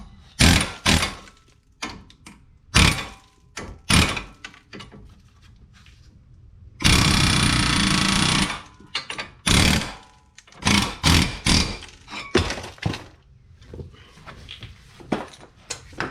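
A hammer striking an old, metal-to-metal worn front brake rotor on a 2015 Kia Rio, with loud, close, irregular metallic blows and a sustained grinding scrape partway through.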